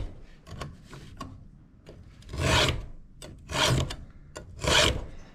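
A chainsaw chain clamped in a vise is sharpened with a hand file, its teeth rasped in three loud, steady strokes, with lighter scraping and ticks between them.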